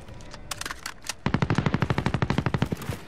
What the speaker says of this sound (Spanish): hay gente tirando por allá